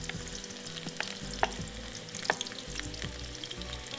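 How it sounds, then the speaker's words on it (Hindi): Chopped onions, about a cup, frying in a pan for a keema aloo dish, giving a steady close sizzle with a few sharp pops and stirring clinks, no talk. "अब मैं इसमें डाल रही हूँ बेटा चॉप्ड अनियन, 1 कप जितनी आप चॉप्ड प्याज डाल दो"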